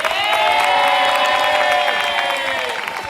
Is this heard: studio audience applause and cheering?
yes